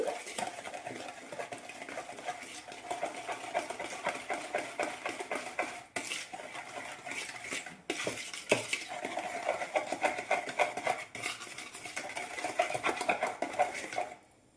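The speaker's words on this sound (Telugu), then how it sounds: "వీటిని బాగా కలుపుదాం పంచదార ఈ నెయ్యి అంతా కూడా కలిసేలాగా కలుపుకోవాలి" Sugar, ghee and a pinch of salt are mixed for biscuit dough, with a steady, close scraping and stirring of the spoon against the bowl that continues without pause.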